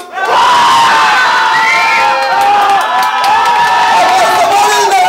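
Studio audience at a Spanish-language TV game show cheering and shouting for contestant number one, a loud, sustained crowd roar of whoops and yells.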